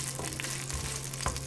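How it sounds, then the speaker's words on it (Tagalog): Onion sizzles and fries in a hot pan, a steady soft crackling hiss with occasional small pops and stirring scrapes, heard alone and fairly close. "Sakto mo lang yung init ng kawali mo. Tapos lagay mo yung sibuyas."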